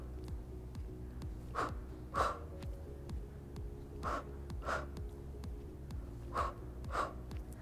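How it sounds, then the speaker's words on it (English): Heavy breathing during an abs workout, sharp audible breaths in and out coming in pairs, close and clear over a quiet steady background hum. "breathe in and out"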